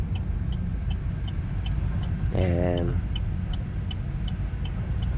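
A Chevrolet Cruze drives along a road near San Jose, Batangas, with a steady low engine and tyre rumble heard from inside the cabin. Someone speaks briefly over the drone, and faint ticking comes and goes.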